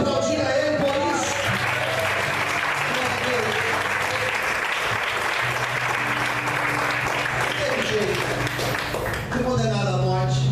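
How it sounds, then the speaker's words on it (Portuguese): A church congregation claps together in sustained, dense applause during a sermon, with a voice and tonal sounds audible at the start and end around the clapping. "Será que você pode aplaudir a ele por isso?"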